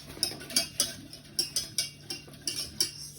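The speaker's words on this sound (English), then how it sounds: "And then you need to whisk that up and make sure there's no lumps in there." A whisk beats a butter and flour roux in a pan with quick, rhythmic metallic clicks and scrapes, close and fairly quiet, repeating steadily.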